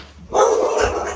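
A dog barks close by at a rented home, a loud, rough burst that breaks in suddenly and carries on for about a second.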